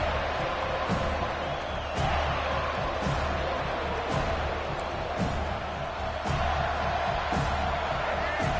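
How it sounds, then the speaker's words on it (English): Stadium crowd roaring and cheering at an NCAA 25 college football video game, a steady loud wall of noise with periodic louder surges and thumps, under a commentator's voice. "This crowd, full throat, splitting the eardrums"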